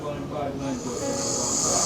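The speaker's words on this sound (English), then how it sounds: "he's breathing through his mouth, not through his nose" A dog snores steadily while breathing through its mouth because of a blocked nose, a continuous raspy, hissing rumble heard up close, with a voice speaking over it.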